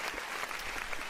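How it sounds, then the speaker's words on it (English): An audience claps for the team that won the Horizon Bracket finals at a Natural Selection 2 esports tournament, the NSL European Open. The applause is a brief, dense, steady patter with no break. "give them a nice big round of applause for winning Horizon Bracket"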